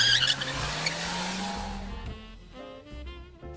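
A car drives off with tires skidding and squealing, the engine revving under a long screech that fades as it pulls away, loud and close with no talk.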